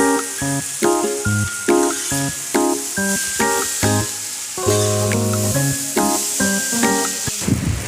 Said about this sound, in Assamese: এতিয়া এইখিনি ভালদৰে লৰাই ভাজিব লাগিব।